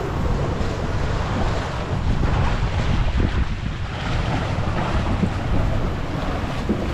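A boat pitching through rough, choppy sea on a windy morning, with steady wash of waves and heavy wind buffeting the microphone throughout, loud and continuous with no voices.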